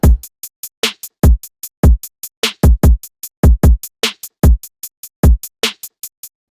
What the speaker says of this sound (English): So we've got a basic little drum pattern here.